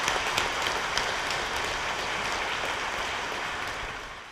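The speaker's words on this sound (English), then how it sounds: "Let us welcome Father Paul and all the priests here together by applause" A church congregation applauds the priests at a first Mass, a broad, even patter of many hands that fills the space like steady rain, moderately distant and easing off slightly toward the end, with no speech.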